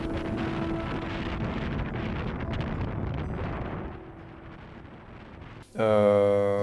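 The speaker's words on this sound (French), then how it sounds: "il y avait énormément de vent" Strong wind on a mountain summit buffets the microphone in a steady, rushing roar that eases partway through, before a burst of unrelated tonal sound at the end.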